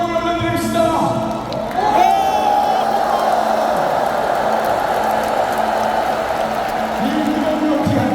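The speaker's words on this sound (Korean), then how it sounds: "우리 다 같이 함성으로 하나님께 우리의 마음을 올려드립시다" A church congregation shouts together in a loud, sustained roar at the 2023 Baekseok denomination 45th-anniversary assembly, rising after a brief spoken lead-in and filling the hall for several seconds.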